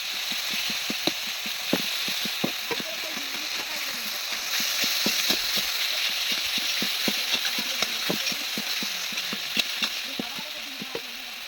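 Spices with salt and turmeric sautéing in hot oil for a fish curry crackle in a loud, constant sizzle, punctuated by rapid rhythmic scraping of a spatula stirring the pan, with no speech.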